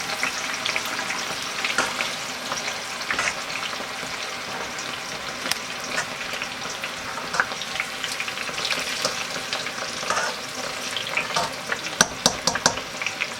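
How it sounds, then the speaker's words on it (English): Onions sizzle and crackle in hot oil for jollof rice, a dense close frying hiss that carries on throughout with scraping stirs and a few sharp pops near the end, with no talking. "heated oil, so I will add some onions to it"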